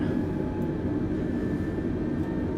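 Aircraft engine thrust during a climb in the Microsoft Flight Simulator 2020 video game, a continuous, loud engine roar with a faint tonal whine running steadily underneath, no voices.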